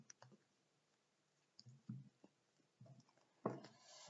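Deck of cards being cut by hand, heard as a few quiet clicks and soft shuffling taps with a brisker riffle near the end.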